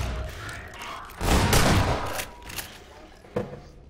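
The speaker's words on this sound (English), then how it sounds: "Stop shooting me!" Gunfire strikes the player in Half-Life 2: Episode One, a burst of thumping, booming shots that swells in the middle, trailed by a sharp single hit near the end.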